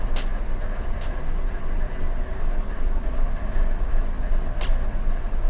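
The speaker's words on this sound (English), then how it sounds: "That train's going to depart now." Steady rolling rumble of a train in a railroad simulation game, moving along a subdivision line near Pisgah, with a few faint high clicks and no talk.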